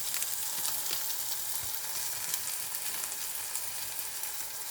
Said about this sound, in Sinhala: හොඳට ස්පූන් කරන්න. හොඳ හැඳි ගාන මිශ්‍රණය.